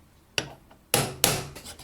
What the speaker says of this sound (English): give it one short tap with a hammer to make sure it's fitting in correctly